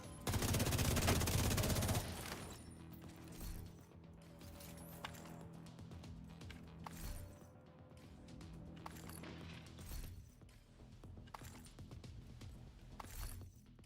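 Enemy gunfire in a video game, a loud burst of rapid automatic shots at the start, then scattered single shots and mechanical clatter against a quiet, low background.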